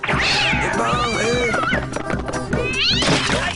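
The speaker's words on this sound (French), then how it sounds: "Gaston, c'est encore votre fichu chat." A cat meows loudly and repeatedly in a French animated scene, its drawn-out, wavering cries mixed with thumps and background talk.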